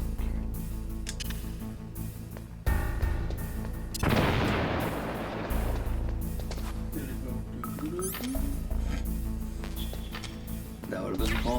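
Grenades detonate in the video game Metal Gear Solid, with one loud burst followed by a decaying rumble amid game sounds, clicks and a sharp bang, partly under someone talking.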